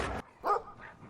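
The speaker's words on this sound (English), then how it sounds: "this psychotic dog chases you around in the field" A hostile dog in the video game Brothers: A Tale of Two Sons barks and yips in short bursts, a loud opening bark followed by several sharper barks spaced apart, with no talking over them.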